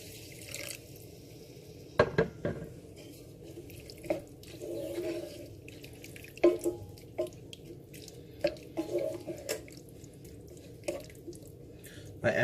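A quarter cup of water is poured into a pan of mixed vegetable curry, bringing soft splashing and liquid trickles with clinks of a utensil against the pan, quiet and close over low background noise.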